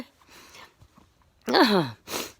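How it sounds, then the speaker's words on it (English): A person sneezing outdoors. Faint sniffly breaths come first, then one sharp, loud sneeze, followed by a brief softer burst. "I've started sneezing again because I'm back outside with no air cleaners"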